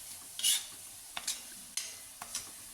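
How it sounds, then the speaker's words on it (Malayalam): Spice powders being sautéed in a pan for beef idiyirachi: a few quiet, separate scrapes and clinks of stirring over a faint sizzle, with no talking. "നമ്മൾ ഇട്ട പൊടികളുടെ പച്ചമണം പോകുന്നവരെ നല്ലപോലെ വഴറ്റി കൊടുക്കുക"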